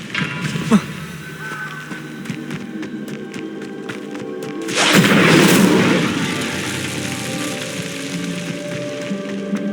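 An Incendio fire spell is cast in the Hogwarts Legacy video game, a sudden loud whooshing burst of flame that swells and fades over a couple of seconds amid game ambience, with an earlier sharp thump.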